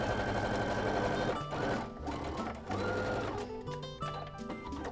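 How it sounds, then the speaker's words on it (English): A sewing machine stitching the quilted lining layers of a zipper bag, a steady loud mechanical whir in close-up with brief pauses and changes in speed. "So the lining is sewn together, and this is just gonna help everything just stay together nicely."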